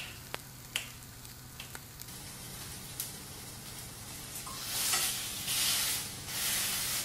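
Burgers cooking in a frying pan give a soft, quiet sizzle that swells into a broader hiss toward the end, with a few scattered light clicks early on.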